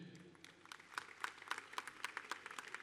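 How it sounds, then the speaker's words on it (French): Applause at the tenth edition of the Benin Top 10 award ceremony in 2017: scattered, faint hand claps from a distant audience with sharper individual claps. "Qu'on applaudit, s'il vous plaît."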